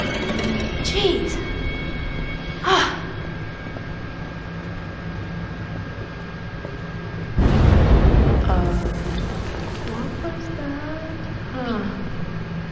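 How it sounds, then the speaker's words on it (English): A loud, sudden explosive boom with a rumbling burst erupts from the Until Dawn horror video game, arriving midway through and lingering as a broad roar over a dark, droning ambient background. "It seemed like an explosion or something like that."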